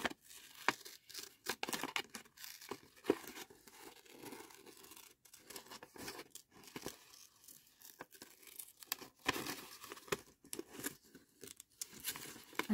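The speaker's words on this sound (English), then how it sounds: "I'm just going to cut this out." Scissors cut out a paper specimen card with irregular snips and crisp paper rustles, close and fairly quiet, with no voice.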